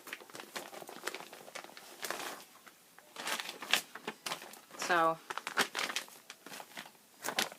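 A crinkly plastic bag with a zipper being opened at an unboxing of a monthly crochet kit, giving close, dry rustling and crinkling bursts between snatches of talk, with a short ratcheting zip near the middle.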